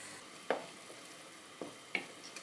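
Spoon stirring a fruit cake mixture with mixed spice as it heats in a pan: a few separate scraping clinks at irregular intervals over a faint steady sizzle, close by with no voices.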